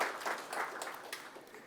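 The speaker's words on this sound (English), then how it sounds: "a round of applause for that" An audience gives a brief round of applause at a talk, a soft wash of clapping hands that fades over a couple of seconds.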